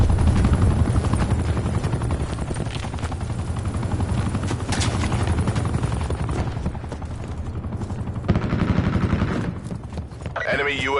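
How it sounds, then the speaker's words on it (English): Enemy attack helicopter in Call of Duty: Black Ops 4 multiplayer, a steady loud rotor drone filling the whole stretch amid bursts of gunfire and game radio voices. "That helicopter's going down."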